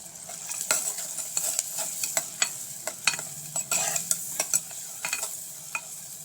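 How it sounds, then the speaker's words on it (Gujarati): Red chili powder, turmeric and pav bhaji masala sautéing in a pan for paneer ghotala: a steady close sizzle broken by frequent sharp spatula scrapes and taps, with no talking. "મસાલા સરસ રીતે સાંતળી લઈશું"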